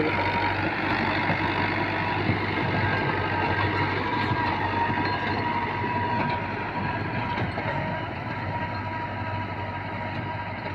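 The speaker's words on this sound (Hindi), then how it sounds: "Dabangg tractor 2023 model 85 HP 60 cutter router" A 2023 Dabang 85 HP tractor in third gear runs a 60-cutter rotavator through a field, a loud continuous engine drone and rumbling churn that holds steady for the whole stretch with no talking.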